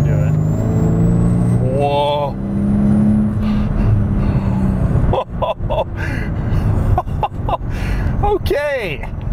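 Engine noise from a Mercedes SL65 AMG rises as the throttle is rolled on, a loud in-cabin drone building then surging, with a person speaking and exclaiming over it.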